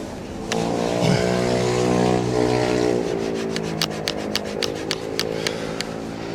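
Cleaner being rubbed into the filthy rubber dampener on a caravan, a steady close scrubbing and rubbing sound with a low tonal hum underneath, then a run of quick regular sharp taps near the end.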